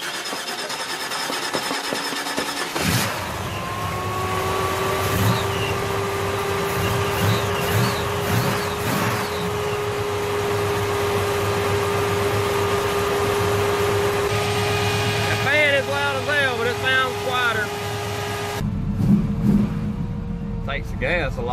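The 327 V8 in a 1966 Chevelle Malibu fires up and idles steadily after a rocker arm adjustment, a close, even hum with occasional blips of throttle, while a person talks over it.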